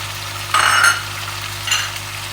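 Onions drop into a pan of frying chicken wings that have turned light golden, setting off a sudden loud sizzle that settles into a steady hiss, with a second brief burst of stirring.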